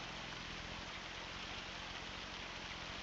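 Steady rain falling on a farm while a truck is loaded, a dense even hiss over a low idling engine rumble, constant throughout with no voices.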